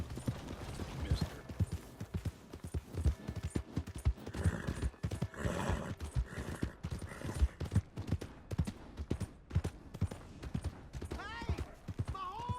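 Rapid, rhythmic hoofbeats clip-clop on hard ground, fairly close, with a short whinny near the end.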